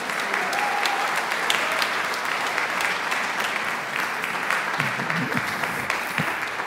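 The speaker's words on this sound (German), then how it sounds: "Ein Applaus, eine mutige Dame." Steady, dense applause from an audience for a brave woman about to sing, sustained evenly across the stretch with a few faint voices beneath the clapping.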